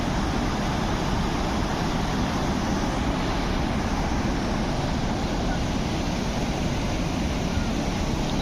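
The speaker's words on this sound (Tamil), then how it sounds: "சவுண்டு பாருங்கள், தண்ணி சவுண்டு" Rushing water roars at Athirappilly waterfalls, a loud, steady broadband wash of falling water with no breaks or variation, filling the whole scene from nearby.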